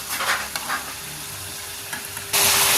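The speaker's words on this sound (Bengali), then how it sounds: "এই পিঠা তেলে ডুবিয়ে ভাজতে হয়।" Heavy pakon pitha cakes deep-frying in oil make a constant close bubbling sizzle with a few soft stirring knocks, swelling into a louder, brighter hiss for the final moments; no one speaks.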